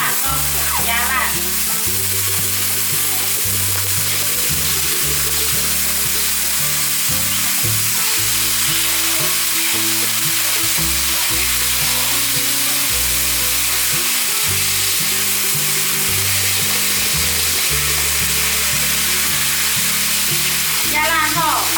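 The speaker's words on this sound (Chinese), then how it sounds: "把豆腐炒干水分" Mashed firm tofu is stir-fried with softened mushrooms in a wok to dry off its water, giving a continuous loud sizzle with rhythmic scraping and stirring strokes of a spatula throughout.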